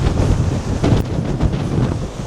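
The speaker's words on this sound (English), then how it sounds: "hardly a breath of wind. Now it's about 40 miles an hour." A strong wind of about 40 miles an hour buffets the microphone on a ridge of the Cotswold Escarpment hills. The roar is loud and constant, with gusty swells and no voices.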